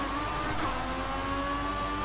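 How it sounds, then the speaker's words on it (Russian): Formula 1 race cars in the F1 2014 racing game pulling away from the grid at the start of the Abu Dhabi Grand Prix, a steady, fairly quiet engine drone with a sustained whine, no voices over it. "Гаснут огни, машины срываются со своих мест."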